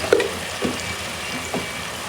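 Spice paste with chili powder and salt sautés in a pan, a dense close sizzle with a few soft stirring scrapes, steady and fairly loud with no talking.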